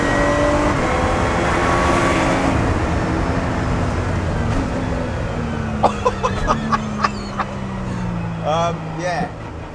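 A Lotus Exige V6 Cup race car on wet tyres drives in heavy rain, its engine droning steadily and shifting pitch through the gears, with rainfall and spray hissing underneath and a few sharp clicks near the end.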